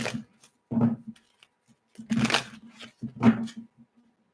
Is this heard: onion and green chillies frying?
no